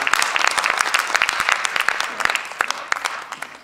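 A church congregation claps steadily in a dense burst of applause during an evening worship service, filling the room without pause.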